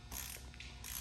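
A ratchet torquing down the bolts on an oil thermostat housing, a quick run of close mechanical clicks over about a second, with nobody talking.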